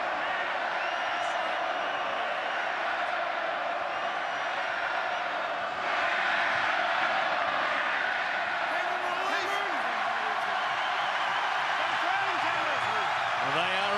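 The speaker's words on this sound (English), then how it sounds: "the Bulldogs bench stood and turned around to the crowd and applauded the chant coming from this Western grandstand at Belmore" Stadium crowd in the Western grandstand at Belmore during a 2015 Bulldogs round 16 rugby league match, a broad sustained roar of chanting and cheering that swells partway through, with a commentator talking over it.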